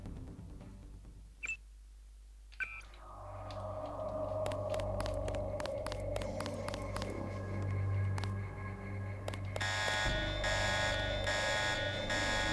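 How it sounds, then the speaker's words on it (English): An alarm blares in the Deus Ex video game, a loud sustained electronic tone with repeating pulses, joined near the end by a harsher, brighter ringing layer, after a few isolated beeps at the start. "Why did you set off the alarm?"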